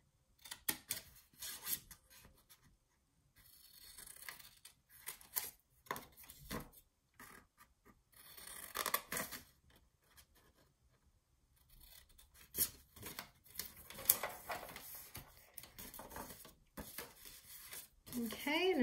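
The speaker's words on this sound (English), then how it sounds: "So I'm going to go ahead and cut these two off on the outer side." Scissors snip through 6x6 patterned paper for a junk journal mini album. The cutting comes as quiet, intermittent crunches and rubbing scrapes, spread across pauses while a person talks in between.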